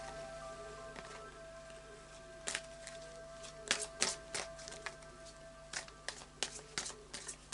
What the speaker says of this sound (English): I'll just do a final shuffle of the Faery Oracle by Brian Froud.